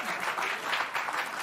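An audience breaks into steady applause during a Fox News broadcast, dense clapping from many hands filling the short stretch, fairly loud and continuous with no voices on top.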